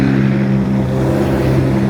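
A steady, droning vehicle engine hum with a strong low tone, sounding strained and labored as the underpowered engine struggles, continuous throughout with no talking, on Hong Kong Island.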